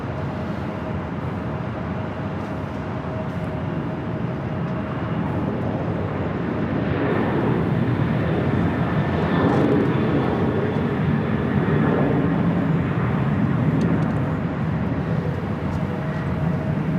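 An airliner comes in to land at Los Angeles LAX, a broad roaring jet rumble that swells and holds steady at a distance over airport ambience.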